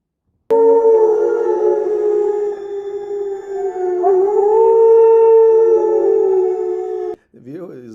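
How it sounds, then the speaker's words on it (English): A single long wolf howl, loud and close, holds a steady wavering tone for about seven seconds before breaking off into a brief falling cry. "Oh, a wolf howling."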